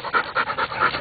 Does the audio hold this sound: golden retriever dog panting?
yes